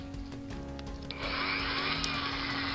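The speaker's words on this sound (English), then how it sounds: "here I'm drilling out the mushroomed over post so I can get the base off" A small power drill bores out the mushroomed post on a Matchbox Baja Buggy die-cast toy car, a steady high whine that starts partway through and holds close and loud over a low background hum.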